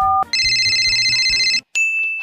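A phone ringtone sounds loudly and close, a bright repeating electronic tone pattern that breaks off briefly and starts again.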